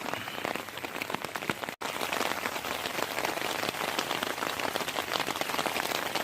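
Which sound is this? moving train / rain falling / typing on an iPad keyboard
rain falling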